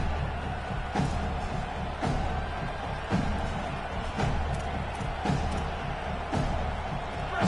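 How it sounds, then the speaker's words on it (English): A college football stadium crowd at a Notre Dame Fighting Irish game roars continuously in a dense, loud wash of cheering, with rhythmic surges about once a second. "So much for the idea of halftime settling down this crowd."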